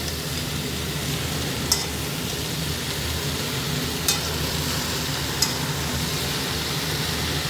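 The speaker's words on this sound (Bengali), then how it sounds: "এই শাকটা তুলে ফেলছি, শাকটা তুলছি" Greens (shak) with potatoes stirred in a hot pan, a steady close sizzle and frying hiss with a few faint scraping clicks, no talk.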